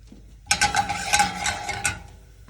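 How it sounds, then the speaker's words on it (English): Shallots stirred in hot oil in a pan over medium heat, a burst of scraping and soft sizzling that starts abruptly and runs for about a second and a half. "We can stir those for a second"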